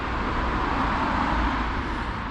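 Traffic on the A666 road passing above a subway in lush woodland in late spring, heard as a dense, continuous broadband roar of vehicles with no voices.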